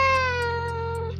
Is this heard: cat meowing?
yes